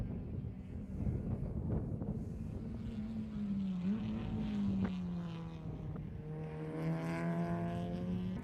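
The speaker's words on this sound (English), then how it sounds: "Cars heading down the safety road into pit road now." Race cars on the Miami Grand Prix circuit head down the safety road into pit road, a steady engine drone with rising and falling pitch sweeping past under wind, moderately loud and continuous.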